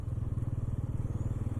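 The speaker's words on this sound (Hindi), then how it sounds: "अभी 4th गियर में हल्का सा थ्रॉटल दे रहा हूँ एंड बाइक स्टॉल नहीं हो रहा है, मूव हो रहा है" Bajaj Pulsar N160 motorcycle riding in fourth gear at light throttle, a steady, rapid low engine thrum with even pulsing, close and moderately loud with no talk.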